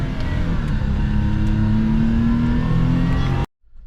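Suzuki Carry with an SOHC F6A engine revving close by, pitch rising steadily over a few seconds before cutting off abruptly as it drops back toward idle.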